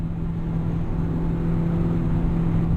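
A car engine holds a loud, steady drone in third gear on the Nurburgring, pushed near the top of its revs with no break in the sound.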